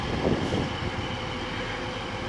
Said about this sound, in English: There it goes, 185121, leaving from Scunthorpe Station on this Transpennine Express